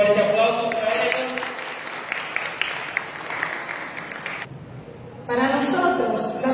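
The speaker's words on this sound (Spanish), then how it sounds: "Un fuerte aplauso para ellos." An audience at a Salesian school-centre event claps loudly, with voices mixed into the dense applause. The clapping dips briefly and then surges back up near the end.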